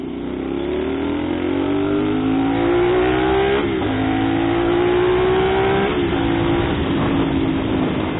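CFMOTO 450 SR motorcycle ridden on a road at night, its engine droning loud and close with a steadily rising pitch, easing off twice and climbing again through gear changes, with no talking.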